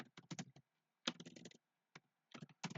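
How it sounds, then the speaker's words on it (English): Computer keyboard typing in short, quick bursts of clicky keystrokes separated by brief pauses, close and clear with no talking. "Let me type something else."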